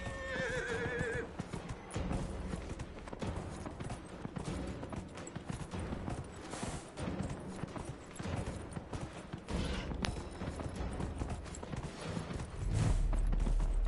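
A horse in Dragon Age: Inquisition whinnies while its hooves gallop in a fast, steady clatter, followed by another neigh partway through and a low thump near the end.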